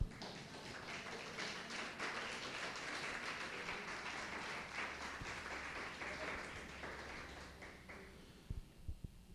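Church congregation applauds the Lord in a sustained, fairly faint wash of clapping that tapers off near the end, with a few soft knocks and low hum in the background.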